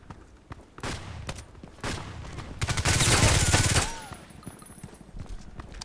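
An IAR heavy weapon fires in a shooter game. Scattered single shots come first, then a loud, sustained automatic burst of about a second ends abruptly, with a few quieter sounds afterward.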